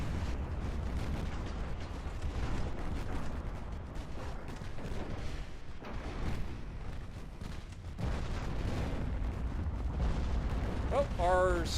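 Torpedo launches and naval battle noise rumble through a dense, continuous mix of booming gunfire and explosions in the naval warfare game Ultimate Admiral Dreadnoughts, steady and loud across the whole stretch.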